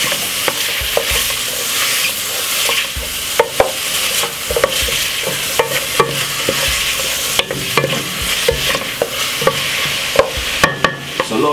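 King prawns seasoned with fish seasoning fry loudly in a pan while a utensil stirs them, sharp scraping clicks recurring over a constant bright sizzle, close up with no talking.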